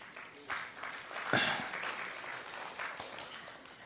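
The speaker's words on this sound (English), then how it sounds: "some wives are clapping, this is not nice" Audience at a Sadhguru Save Soil event in Riyadh claps, a faint, distant wash of applause under a speaking voice.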